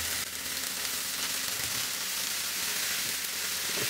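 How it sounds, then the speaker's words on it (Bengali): Halved tomatoes fry on high heat in mustard oil with a dense, loud, continuous sizzle and close crackling that holds steady throughout. "এরকম টমেটো কতগুলা দিয়ে এটাকে পোড়ায় ভেজে নিব, মানে হাই হিটে ভাজবো"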